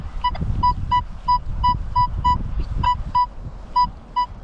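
A metal detector sounding a short, repeated high-pitched tone while searching an 1880 schoolhouse site in Ohio, beeping in quick irregular pulses over low wind rumble and ground scuffing.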